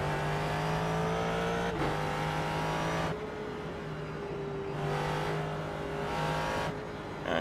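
Ford GT3 race car lapping the Sonoma circuit, engine droning loud and steady from onboard, pitch dipping on a shift or lift near two seconds and again at three, then climbing back under full throttle.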